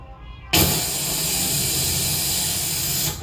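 A voice imitates helium inflating a balloon, a loud steady close hiss that starts abruptly and holds for nearly three seconds before cutting off.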